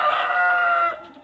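A Brahma chicken calls out in one loud, sustained, drawn-out cry that holds steady and then trails off, heard up close with no talking over it.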